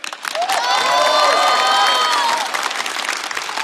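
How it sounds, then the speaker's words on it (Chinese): A studio audience at a variety show applauds Liu Xiaoqing with loud, dense clapping and bright cheers that swell, then ease off toward the end. "再次掌声送给刘晓庆。"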